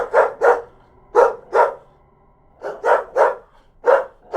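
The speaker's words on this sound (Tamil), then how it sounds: "பின்னர் ஆக்ரோஷமாக குரைக்க ஆரம்பித்தது." A dog barks aggressively in loud, close pairs of sharp barks, repeating in four short bursts separated by brief pauses, with no other sound.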